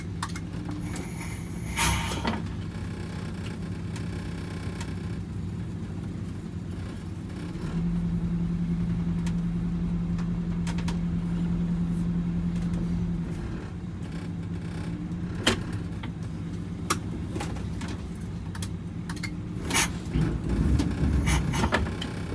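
A Scenicruiser bus engine running steadily while it shifts in and out of gear backing up: a constant low drone, with a sustained steady tone through the middle and scattered clunks and knocks near the end.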